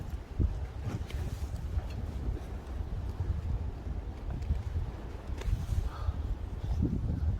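Wind gusts steadily across an open outdoor spot by the sea, where a wood fire cannot be kept lit, producing a continuous low rumbling buffet against the microphone with faint rustling and no talk.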